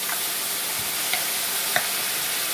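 Whole cranberry sauce sizzling in a hot skillet, a steady close hiss with a few small pops and spatters, no voices.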